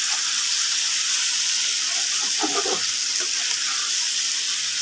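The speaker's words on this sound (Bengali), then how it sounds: "দেখে আস্তে আস্তে আমি কষিয়ে নেব একটু।" Shing fish sautéing in masala in a pan gives a continuous close hiss of sizzling, broken by a short burst of scraping and stirring near the middle, with nobody talking.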